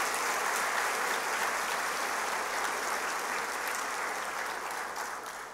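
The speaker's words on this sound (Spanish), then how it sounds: "quiero aplaudir también a las familias que están presentes en la tarde de hoy" A graduation ceremony audience applauds the families in attendance, a dense, sustained wash of clapping that fades gradually toward the end.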